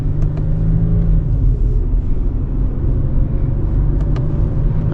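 A modified Infiniti G37 running with no exhaust system drives along a street, its engine giving a loud, steady low rumble that stays close and continuous throughout.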